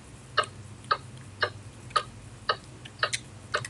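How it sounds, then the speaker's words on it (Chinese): Sample of a clock ticking, a steady series of crisp clicks about twice a second, close and clear over a low background hum. "这是时钟的滴答滴答声"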